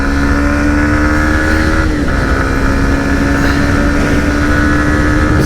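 A Yamaha MT15 V2 motorcycle engine drones loudly and steadily close by, its pitch dipping briefly then climbing as it pulls.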